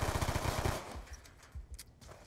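Rapid automatic gunfire in the Black Ops 2 video game, a fast burst of clipped shots for under a second, followed by a few scattered quieter shots and impacts in the background.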